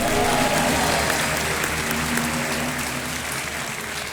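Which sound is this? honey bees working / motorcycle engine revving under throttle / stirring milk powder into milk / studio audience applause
studio audience applause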